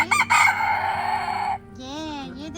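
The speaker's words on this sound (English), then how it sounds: "You heard that rooster across the street?" A rooster crowing across the street, a loud sustained cock-a-doodle-doo that cuts off sharply, followed by a wavering, warbling bird-like call in a quieter outdoor setting.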